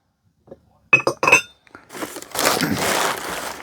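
Vintage glassware from a storage-shed box clinks close up as pieces knock together while being unpacked. A few bright chinks are followed by a longer rustle of packing material.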